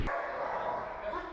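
A dog of a fierce, imported guard breed gives a brief bark or yelp that overlaps a voice.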